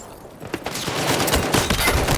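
Enemy machine gun fire in a video game, a short dense burst of rapid shots growing louder and continuing without pause.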